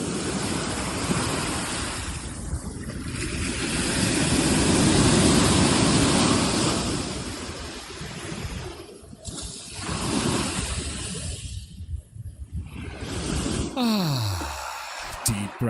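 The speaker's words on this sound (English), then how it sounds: "Beautiful wave sounds." Ocean surf rolling ashore at Huatulco, a steady broad wash swelling and fading with wind buffeting the microphone, continuous and fairly close.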